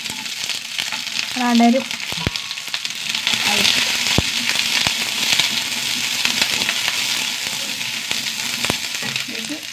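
Onions and curry leaves fry in a pan, giving a steady close-up sizzle with scattered clicks of a utensil against the pan. A brief voice can be heard near the start.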